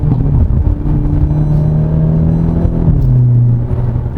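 A 2022 Hyundai Elantra N driving through city streets, its engine and exhaust rumbling loud and close from inside the cabin, pitch climbing steadily then dropping at a gear change and climbing again, with no talk.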